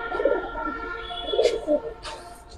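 Pigeons coo softly at a pigeon market selling giribaz and coloured breeds, with low, throaty calls rising and falling in short bursts over a steady murmur of background noise and no nearby talk.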